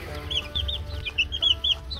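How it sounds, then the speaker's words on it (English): Young egg-laying chicks cluck and peep at a feeder in a close series of short, high chirps over a low background rumble, with no talking. "Can you eat, little chicken?"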